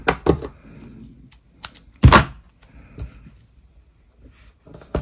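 Double-sided tape being pulled and pressed onto a handmade greeting card, a few scattered close thumps and sharp tearing clicks separated by quiet gaps, with no voice.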